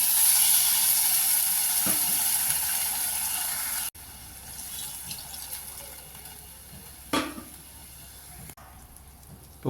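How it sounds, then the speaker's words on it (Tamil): Water is poured into a pan of frying brinjal and dry fish curry, a soft steady hiss that suddenly drops quieter, followed by a couple of brief splashy bursts, with no talking. "நல்லா வதங்கினப்பங்க இந்த தண்ணி ஊற்றிக்கலாங்க"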